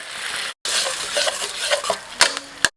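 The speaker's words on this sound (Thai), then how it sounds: "น้ำซอสของเราเดือดดีแล้วนะครับ" Thai curry sauce for fried snapper bubbles and hisses in a pan, close by, broken by a brief pause and a few sharp metallic clicks of a utensil against the pan.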